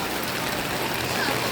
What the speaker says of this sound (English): Yeah, it was nice and sunny earlier, but now it's raining.